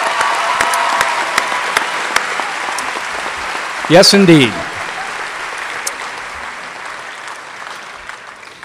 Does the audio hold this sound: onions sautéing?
no